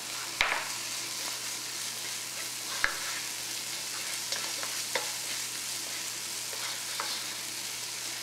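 Biriyani masala mixture frying and sizzling in oil in a pan for Kerala mutton biriyani, a steady soft sizzle with a few sharp clinks of stirring.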